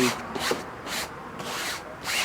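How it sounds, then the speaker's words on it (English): A bottle brush scrubs the fabric soft top of a convertible in short, close, rhythmic bristly strokes, about five separate passes with brief pauses between them. "so once we've brushed the fabric"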